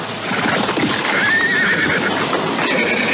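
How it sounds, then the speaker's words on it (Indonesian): A horse whinnies loudly and close while hooves clop along, suggesting a horse-drawn carriage pulling up. "kereta kuda itu sampai di pintu gerbang halaman rumah tua"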